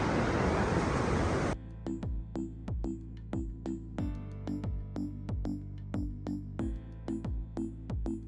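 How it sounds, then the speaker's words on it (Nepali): A mountain river flowing down from Annapurna roars loudly as a broad rushing wash for about a second and a half. It then cuts off, and a series of rhythmic ringing struck tones follows. "यो चाहिँ माथि अन्नपूर्णबाट आएको खोला है"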